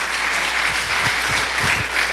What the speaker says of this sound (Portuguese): Vamos receber o homem de Deus aplaudindo o nome do Senhor.